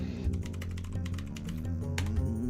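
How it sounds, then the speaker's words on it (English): Computer keyboard being typed on, a run of quick clicky keystrokes close by over a low steady hum, with no talking. "he's typing"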